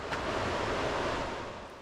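River water rushing steadily around nearly submerged stepping stones near a bridge at Bolton Abbey, a continuous broadband wash of flowing water running loud and close throughout.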